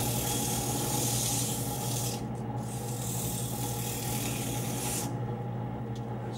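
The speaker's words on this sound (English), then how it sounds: "Then the 100 grit takes out the scratches caused by the 80." Sandpaper rubbing against turned wood spinning on a woodworking lathe, moving from 80 up through 100 and 150 grit; a steady broadband hiss over the motor's constant hum, continuous and close.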